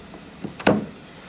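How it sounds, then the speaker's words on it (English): The hood of a 2015 Jeep Wrangler Sport drops shut onto its latch, one sharp close thud preceded by a couple of faint lighter knocks, alone in a quiet setting. "Let's just go ahead and latch this hood back down."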